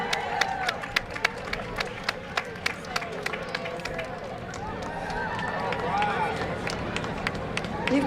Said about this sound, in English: You've got a lot of city council people standing up cheering you this afternoon.